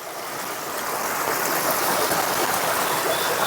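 Water rushes out from under a fallen tree trunk in a forest, a loud, continuous broadband roar close by that swells slightly at the start and then holds steady, with no speech.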